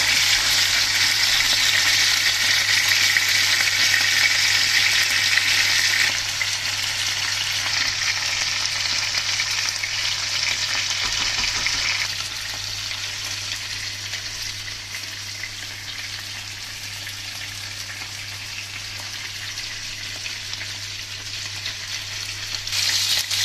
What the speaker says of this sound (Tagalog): i-fry lang po natin konti ang ating chicken para medyo may malasa-lasa